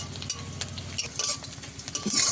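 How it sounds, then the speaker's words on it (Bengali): Onions are stirred and fried in a pan, spatula scrapes and clinks punctuating a bubbling sizzle, close and uneven, over a music bed. "পেঁয়াজটাকে লাল করে ভেজে নেব।"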